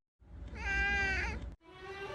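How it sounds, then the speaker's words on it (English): A cat lets out a long, loud, drawn-out meow, then a second shorter meow follows straight after, close and clear with no talk. "Cat video."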